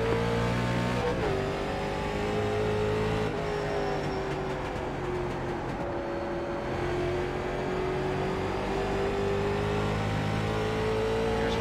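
Late model race cars in iRacing roar together as the pack accelerates off the green at USA International, a loud, dense engine drone whose pitch drops at a gear shift and then climbs steadily, continuous throughout.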